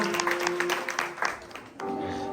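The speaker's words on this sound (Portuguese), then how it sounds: "Dá uma salva de palmas para Jesus nessa tarde." A church congregation claps during an afternoon service, brief fairly faint applause with a sustained tone running beneath it that drops away and then returns.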